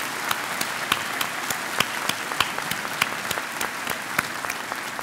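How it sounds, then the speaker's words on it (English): An audience applauds at a 2013 Calhoun Community College graduation ceremony, honoring a college alumnus and the chair of the College Foundation Board; steady, moderately loud clapping from a large crowd, with distinct sharp claps over a dense wash. "Let's give them a round of applause."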